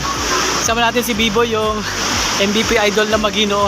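River water rushes at Wawa Dam in a loud, constant roar that stays steady throughout, with someone talking close over the torrent.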